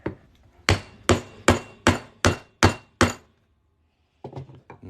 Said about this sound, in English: We're gonna hammer this through here.